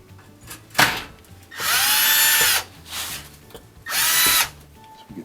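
A power drill drives mounting screws into the back corners of a GE double oven, two loud sustained whirring runs of about a second each, close up, separated by brief handling clatter.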